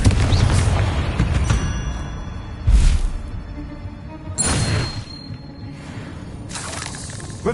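Confringo fiery spell blasts from the video game Hogwarts Legacy, several loud booming explosions at irregular intervals, each a sharp broadband burst decaying into rumbling debris and shattering noise.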